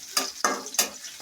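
Chopped onions fry in hot oil for a dal tempering. Close, bright sizzling bursts come four times as a spoon stirs and scrapes the pan, with no talking.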